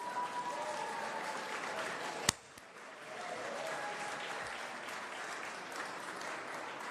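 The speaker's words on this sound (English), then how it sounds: "We have got to applaud the hardworking team who put this event together" Faint audience applause at a video game awards show, steady crowd clapping interrupted by a sharp bang, then resuming at a lower level in a large hall.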